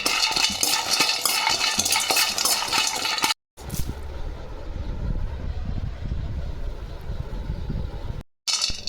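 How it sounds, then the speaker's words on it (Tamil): Cashews roasting in a pan for a multigrain porridge mix, stirred steadily with a spoon that rattles and scrapes close by, with a brief pause and a break in the sound. "முந்திரி இதையும் வறுத்துக்கலாம்"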